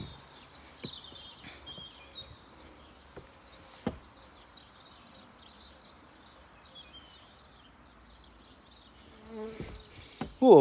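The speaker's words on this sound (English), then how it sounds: "Ooh, a wasp just came around." A wasp buzzing around close by at a railway station platform, its faint, wavering drone rising and fading with passing bird chirps and a few sharp knocks in the background.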